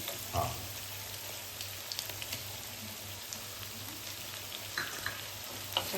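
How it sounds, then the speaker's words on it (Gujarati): Chopped onion and tomato sauté in hot oil over a medium flame for dal fry, giving a steady close sizzle. A few soft stirring clicks and scrapes sound near the start and end, with no talking. "હા, હવે આપણે એને મીડિયમ ફ્લેમ પર સાતરી લઈશું."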